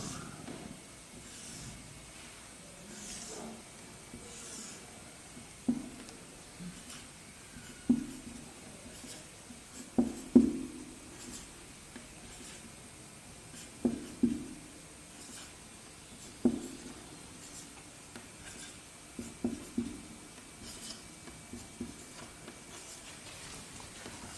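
A pen or marker draws a diagram of a bacterial cell wall by hand, making faint, intermittent scratching strokes separated by short pauses over a quiet background hiss.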